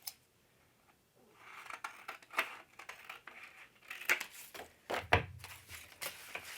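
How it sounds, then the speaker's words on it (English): Scissors snipping a triangle out of paper for a junk journal page, a run of crisp close cuts and rustles with a sharper snip near the end, no talking. "Then I'm going to take my scissors and cut the triangle out."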